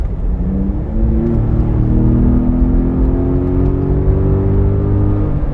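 A Mountune power-upgraded Ford Raptor pickup on 37-inch tires, its engine a loud, steady, close rumble whose pitch climbs smoothly as it pulls under acceleration.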